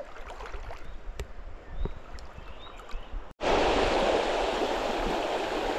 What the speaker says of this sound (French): sous la cascade, si on peut appeler ça une cascade